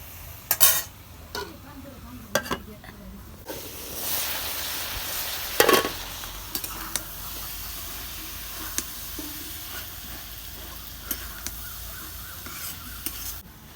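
Black taro (kochu) bhaji stirred in a frying pan, giving soft scraping stirs and a low sizzle with a few sharp utensil knocks against the pan, close by and without talk.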